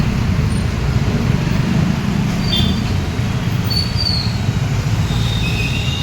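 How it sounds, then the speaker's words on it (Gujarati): Loud, continuous morning traffic rumble on a city road in Surat, a dense wash of engines and road noise, with faint high squeals and horn tones drifting in. "ટ્રાફિક છે."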